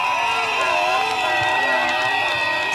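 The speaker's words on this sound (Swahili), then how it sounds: "Makofi kwa gavana wetu." A large outdoor crowd at an opposition political rally cheers and shouts for a governor, a dense continuous roar with whoops, loud and sustained, a voice ringing over it.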